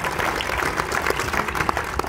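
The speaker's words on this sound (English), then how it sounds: "Please give them a round of applause." Audience applause fills a hall at the close of a hot dog hall of fame awards ceremony, a steady dense wash of many hands clapping with no break for its full two seconds.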